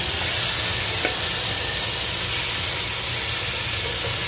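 Meatballs sizzling in caramelized sugar in a pan for braised lion's head, a steady dense hiss and crackle throughout with one faint clink, no talking.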